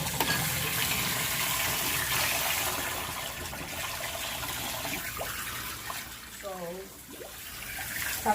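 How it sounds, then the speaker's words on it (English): Water runs from a bathroom sink tap during handwashing, a steady hiss that continues throughout while a person talks over it, with a brief chirpy sound near the end. "I'm gonna show you how I have to wash my hands"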